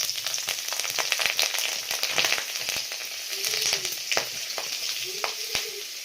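Cumin seeds splutter and crackle in hot refined oil in a wok, a dense, steady sizzle with sharp pops scattered throughout, close and continuous with no talking.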